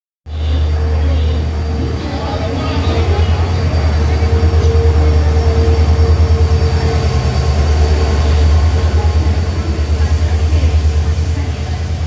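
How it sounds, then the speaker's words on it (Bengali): A Vande Bharat Express train pulls into a platform at NJP station with a loud, close, continuous rumble of rolling wheels and a deep steady drone, filling the whole stretch. "ট্রেন ঢুকে গেছে প্ল্যাটফর্মে অ্যাডভান্স।"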